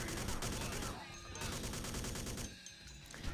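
Bursts of rapid video game gunfire crackle in quick volleys, dense and loud at first, easing off briefly before another flurry near the end.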